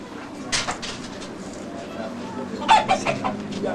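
Chickens cluck and squawk in short bursts close by, with a rooster among them, over steady background noise.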